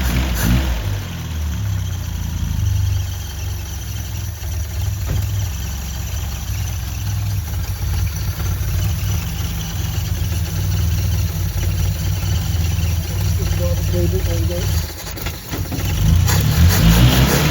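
A Toyota Cressida engine idles steadily and loudly up close after a valve adjustment while brake cleaner is sprayed around it, with a brief dip in the idle near the end.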